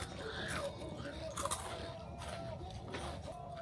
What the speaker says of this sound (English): It's super crunchy.